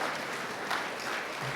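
An audience at an MLK Day ceremony applauds with dense, steady clapping that fills the whole short stretch, loud and close.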